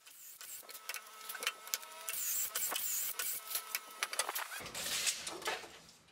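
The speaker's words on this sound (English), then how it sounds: "And here I'm using the Massca Pockethole jig." A drill bores pocket holes in 2x4 lumber through a Massca pocket hole jig, with bursts of high-pitched motor whine broken by short pauses, clicks and knocks, moderately close.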